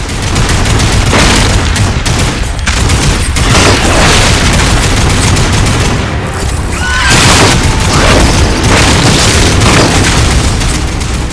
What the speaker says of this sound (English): Some shooting there.